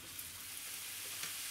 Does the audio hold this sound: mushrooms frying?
yes